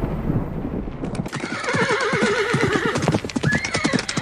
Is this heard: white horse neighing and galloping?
yes